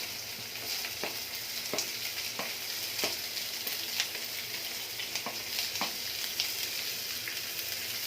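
Chopped onion hits hot oil with cumin seeds and curry leaves for a mushroom gravy, making a steady, close sizzle with faint stirring scrapes throughout.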